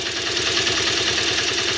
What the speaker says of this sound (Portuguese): Aparentemente você já está escutando o barulho, que é o tique-tique.